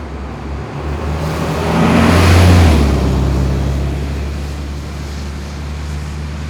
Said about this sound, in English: We got a bus coming.